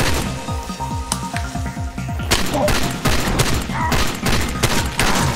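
Gunfire in the video game Far Cry 2, dense bursts of shots and loud impacts cracking close by, with heavy booms midway through and no talk.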